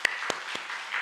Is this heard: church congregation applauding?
yes